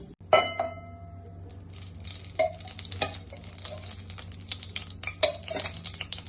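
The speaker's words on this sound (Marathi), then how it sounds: "आता आपण ह्याला फोडणी करतोय" Mustard seeds and turmeric crackle and sizzle in hot oil while a metal spoon clinks against the pan a few times, close and fairly quiet.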